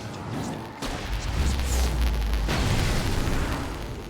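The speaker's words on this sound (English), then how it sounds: "The flare gun was probably the best weapon I could imagine." A flare gun fires in the video game Alan Wake, a loud booming burst that starts suddenly and holds as a heavy, roaring blast for several seconds before easing off.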